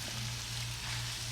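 Chicken cooking in a cast iron pan with the heat just switched off, giving a steady, even sizzle and crackle over a low hum, close and continuous with no voices.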